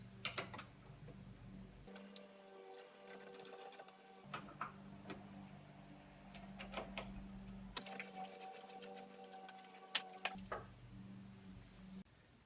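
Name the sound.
8mm socket wrench removing car battery terminals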